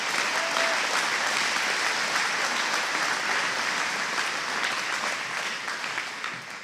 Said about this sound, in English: Let's have a round of applause for Linda.